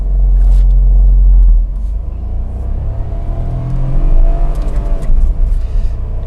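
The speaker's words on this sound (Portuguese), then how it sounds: "sair de novo para vocês entenderem aí o quanto que cai a rotação a cada troca de marcha" Renault Kwid 2023 small car accelerating hard, its loud, close engine droning and revving, with a sudden drop in revs at a gear change before it climbs again; no talk.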